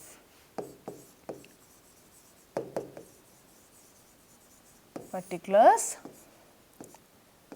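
A pen scratches across paper in short bursts while drawing up a handwritten accounting ledger format, the strokes close and distinct between stretches of someone talking.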